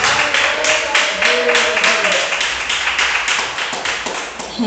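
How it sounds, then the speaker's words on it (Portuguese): Church congregation claps hands together in a steady rhythmic beat, loud and close, while a voice carries on underneath the clapping. "agradecer o Senhor com as palmas"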